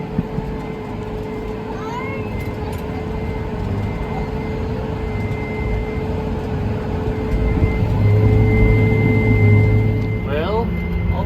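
Two tractors work the same field at once while straw is baled, a steady low engine drone holding throughout and swelling louder near the end, with a faint whistling tone over the rumble.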